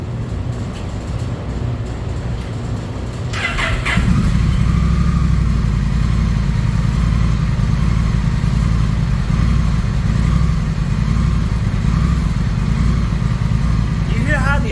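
A Honda Rebel 1100 motorcycle with a flashed ECU idles up close, a deep loud rumbling engine that steps up in level after a few seconds and holds with a slightly uneven, surging pulse.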